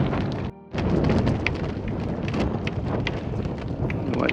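Strong northeasterly wind buffeting a sailboat on a bay, a loud, steady roar of gusts across the microphone with a brief lull near the start.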